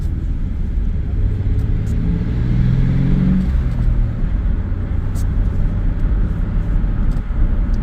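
A 1996 Chevy S10 with a 4.3 engine and Holley Sniper fuel injection drives downhill, its low engine rumble steady and close with a slight swell in revs midway, heard from inside and without talk.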